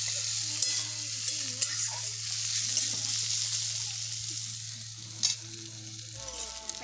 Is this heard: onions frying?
yes